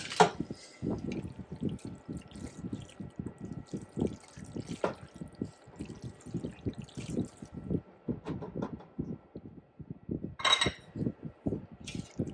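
Spaghetti is being tossed with a white wine sauce and shrimp in a pan, giving a steady run of wet, squelching clicks and soft scrapes close up, with a couple of brighter clinks of the spoon against the pan.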